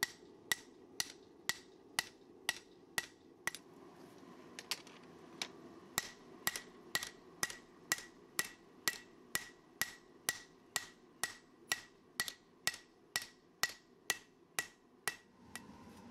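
A hammer strikes hot steel while forging a tapered tang cleaver blade, thinning it toward final height. About thirty sharp, ringing blows fall in a steady, even rhythm, loud and close, with no talk.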